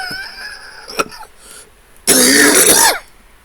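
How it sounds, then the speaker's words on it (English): One person clears the throat sharply near the start, then lets out a loud, harsh cough lasting almost a second, close to the mic. "well, I just cough everything up"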